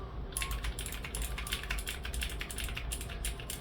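Fast, continuous typing on an NZXT Function MiniTKL mechanical keyboard with custom switches and keycaps, a deeper, muted thock to each keystroke, close up and steady throughout.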